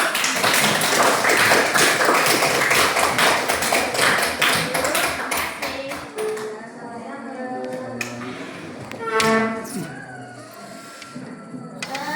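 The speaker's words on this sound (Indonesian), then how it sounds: "boleh kasih apresiasi tepuk tangan untuk kelompok 1" Classroom applause for a student group in a math lesson: a dense, loud burst of many hands clapping for about six seconds, then fading out under teacher speech.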